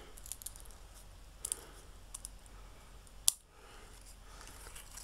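Scissors snipping a small paper pennant garland, quiet scattered cuts and clicks at close range with one sharper snap near the middle, no talking.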